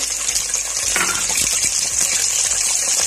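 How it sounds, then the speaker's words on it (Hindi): Chopped onion hits hot oil in a pan while making daal maash, giving a loud, continuous rushing sizzle that holds steady for a few seconds. "तो अब मैं इसमें प्याज डालने लगी हूँ, जो एक अदद मैंने काटा था।"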